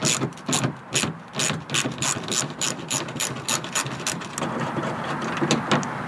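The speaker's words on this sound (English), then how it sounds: "there's a bolt right under here that we're going to take off with the 10mm socket" A hand ratchet with a 10mm socket loosens a bolt on a Ford F-150 during a mud flap installation, making rapid repeated clicking bursts, close and clear, with short pauses between strokes.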